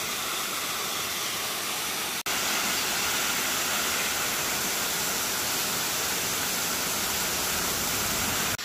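A waterfall pours over moss-covered rock domes in south-west Romania, a loud, constant broadband rush from start to end, with only a brief break early on.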